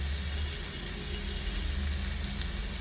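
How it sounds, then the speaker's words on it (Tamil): Crushed garlic hisses in hot oil, a steady close sizzle with no talking. "இப்போ நான் வந்து இதில் இந்த பூண்டு தட்டி வச்சுருக்க பூண்டை சேர்த்துக்கிறேன்."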